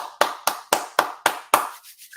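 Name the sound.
hand clapping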